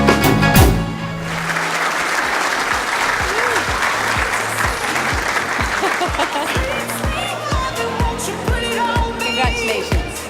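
Crowd at an apprenticeship awards night applauding a winner, loud continuous clapping with music playing underneath.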